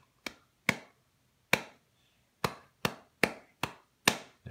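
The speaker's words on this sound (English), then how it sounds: "Okay, so I'm going to clap." Crisp hand claps tapping out a spoken-word rhythm, about ten sharp close claps in an uneven pattern with short pauses between groups, quiet and dry with no talking.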